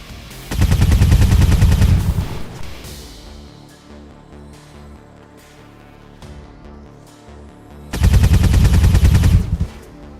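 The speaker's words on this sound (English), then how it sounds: "let's just try rapid fire" Rapid-fire gunshots in the XCOM 2 video game, two loud dense bursts of shots about two seconds each, separated by quieter game sounds and scattered impacts.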